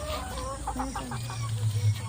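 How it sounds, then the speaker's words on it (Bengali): Chickens clucking nearby outdoors in the afternoon after being let out of their coop to roam, a short run of close, distinct clucks over quiet background. "মুরগিগুলো চড়ছে দেখো।"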